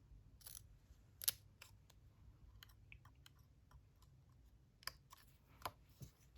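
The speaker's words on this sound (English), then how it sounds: "I'm going to take my scissors and I'm just going to trim a little fishtail in this piece" Quiet, scattered snips of scissors trimming a fishtail into a piece of card paper, a few sharper clicks among soft rustling, close up with a low hum underneath.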